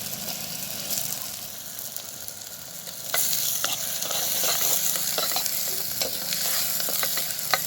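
Chopped onion fries in a clay pot for mutton biryani, a steady hiss that swells louder partway through as a utensil stirs and scrapes with irregular knocks close by.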